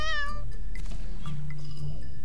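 A cat meows in the video game River Tails: Stronger Together, one clear, drawn-out, loud cry at the start, followed by quieter game sounds.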